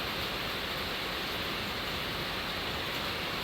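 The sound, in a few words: raindrops falling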